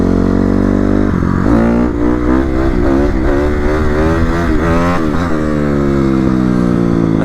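A dirt bike engine revs hard and close during wheelies, its pitch climbing and dipping repeatedly through a continuous, loud roar with no pauses.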